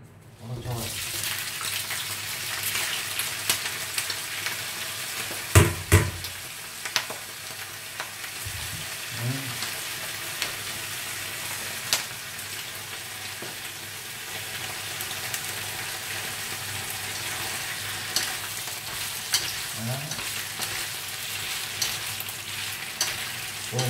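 Large freshwater shrimp are stir-fried in a pan, with a continuous moderate sizzle, a few sharp clacks and scrapes of stirring, and what may be running water faintly in the background.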